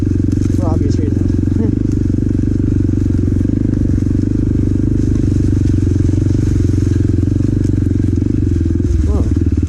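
Motorcycle riding: a loud, steady engine drone with strong low rumble dominates throughout, close up, with faint clatter and brief tonal squeaks over it.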